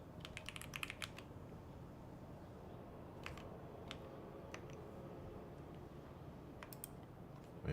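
Quick bursts of clicky computer keyboard typing come in short runs separated by pauses and single key taps, faint over a low steady background hiss.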